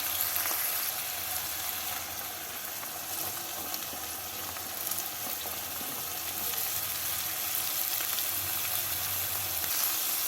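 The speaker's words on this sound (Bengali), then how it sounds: "পেঁয়াজের সাথে আলুগুলোকে ভেজে নেব" Potato pieces and onions fry in hot oil, a steady, close crackling sizzle that hisses without pause from start to finish.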